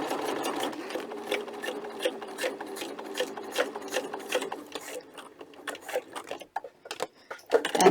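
A sewing machine stitches a strap for a custom book protector in a rapid, steady mechanical patter close by, slowing and stuttering toward the end before stopping.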